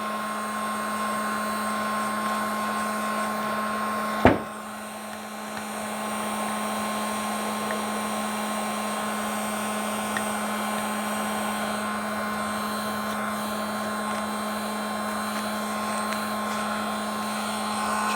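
A heat gun or hair dryer blows a steady, even whoosh with a constant whine while cleaning an MP40 magazine. One brief knock breaks in near the start, and the airflow carries on unchanged, close and fairly loud.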